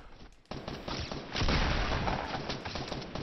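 Gunfire in the Fortnite battle royale game, from crossbow and pump shotgun weapons: a dense burst of loud, close shots starting after a brief lull and rolling on continuously to the end with no talk.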